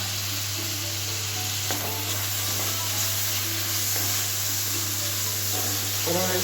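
Chopped tomatoes hit browned onions in a hot pan and fry with a steady, hissing sizzle, broken by a few soft stirring scrapes and clicks.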